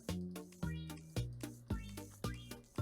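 A cat meows five times in steady succession in the video game Meow World Order, each call loud and drawn out with falling pitch, alone without talk.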